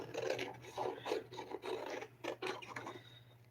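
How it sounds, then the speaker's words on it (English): A toner sheet being trimmed for card making, heard as a series of close, rhythmic rasping and scraping strokes, moderately quiet and with no voices. "I'm going to lay this onto my toner card front, or my toner sheet. And then I'm going to trim this off too."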